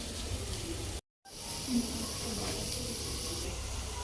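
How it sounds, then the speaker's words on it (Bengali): Onions frying with chopped green chillies in a pan, a steady broad hiss and sizzle that drops out for a moment, then carries on evenly at a moderate level. "পেঁয়াজটা হালকা বাদামি করে ভেজে নেব।"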